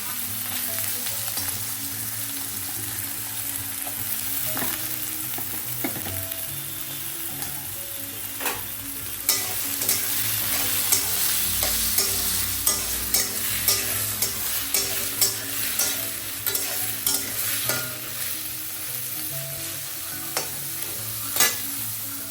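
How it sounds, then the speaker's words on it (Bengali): Cut potatoes and carrots fry in a pan, a continuous sizzle that grows busier midway, with repeated scraping stirs and rhythmic utensil clicks, no voices. "এখন আমি এই আলু আর গাজরটাকে ফার্স্টে ফ্রাই করব"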